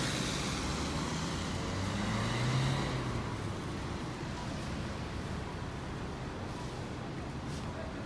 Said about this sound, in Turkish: Gördüğünüz gibi burada trafik sıkışıyor,